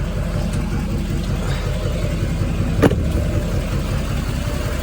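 An LML Duramax diesel pickup idles with a low, even rumble and a steady clatter, close by and continuous, with one brief sharp knock partway through and no voices.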